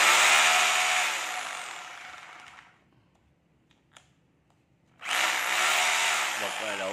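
A three-function power drill with reversing and hammer modes whirs loudly at close range, winds down into near silence for about two seconds, then starts up again at full speed.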